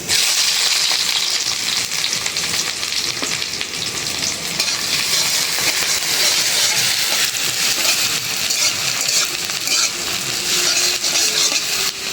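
Chopped onion sizzles loudly in hot oil in a home kitchen pan, a continuous bright frying hiss with occasional stirring scrapes running steadily throughout, no voices.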